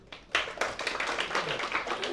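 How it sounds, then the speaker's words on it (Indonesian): A lecture-hall audience at a university public lecture on economics and public policy claps briefly, a dense burst of scattered hand claps close by. "Tepuk tangan dong untuk Mas Aldi."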